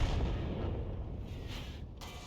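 Artillery shells firing in a naval video game, with a heavy, rumbling boom at the start that fades into a long, dense roar and a brief metallic clang on a wreck.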